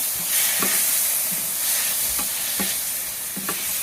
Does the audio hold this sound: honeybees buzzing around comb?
no